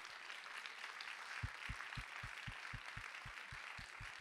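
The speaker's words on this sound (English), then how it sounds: "let's have a round of applause" A conference audience applauds in a large hall as a broad, distant wash of clapping, while a sharp, regular thudding beat of about eleven hits pulses underneath, loud and evenly spaced.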